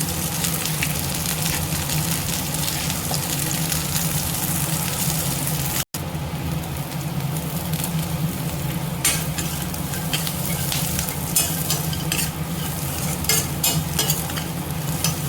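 Grated coconut with small onions being stirred in a pan, a dense continuous sizzle with scraping and rustling from a spatula, close and fairly loud throughout with a brief dropout partway; no one speaks.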